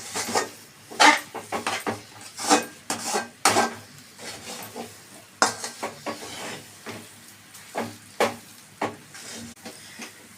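A spoon scrapes and knocks through a thick mixture in a metal pot, irregular stirring strokes with clinks and soft sizzling, fairly close and without talk.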